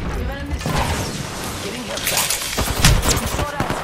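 Rapid automatic gunfire bursts from an Apex Legends match, dense crackling shots layered over game effects and talk, growing heavier toward the end.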